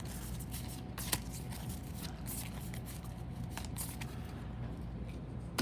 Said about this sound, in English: We'll shuffle Foxy back into this deck.